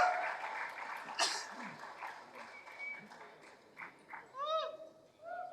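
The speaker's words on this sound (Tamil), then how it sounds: "எஸ்கே அவர்களை ஒரு பெரிய கைத்தட்டலோடு அன்போடு மேடைக்கு அழைக்கிறோம்." A crowd at a film first-look launch event claps and cheers, with scattered applause, shouts and sharp rising whistles rising and falling at moderate distance.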